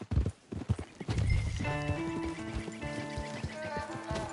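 Horses walk on a road, their hooves clip-clopping close by, and then one lets out a long, loud whinny that carries over the steady hoofbeats.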